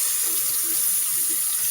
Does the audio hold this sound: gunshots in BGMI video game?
no